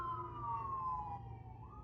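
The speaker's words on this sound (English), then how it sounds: "We got some ambulances coming." Ambulance sirens wail at a five-way intersection, a faint steady tone sliding gradually downward over low traffic rumble, then starting to rise again at the end.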